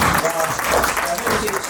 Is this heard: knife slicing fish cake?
no